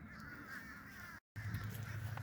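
Crows caw loudly and repeatedly outdoors, harsh calls overlapping in a steady chorus that breaks off for a split second before resuming just as strongly.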